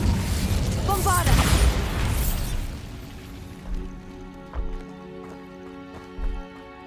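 A Bombarda blasting spell in Hogwarts Legacy sets off a loud booming burst early on, then fades into a tonal ringing with a few soft thuds that follow.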